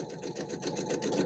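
A sewing machine stitches quilt blocks for a table runner, its needle running in a rapid, even mechanical chatter at close range, quiet and unbroken.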